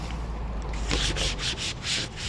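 A hand rubs firmly over a freshly applied surfboard tail pad, pressing it down with a continuous close scuffing and brushing sound in repeated strokes, no voices.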